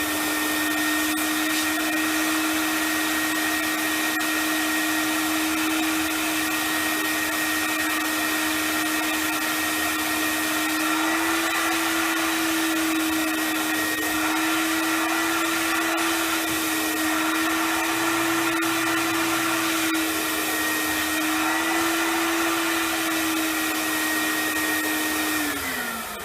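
Vapor Clean Desiderio Plus vacuum running steadily and loudly for the whole stretch, a constant whine with a stable pitch that dips slightly at the very end as it winds down.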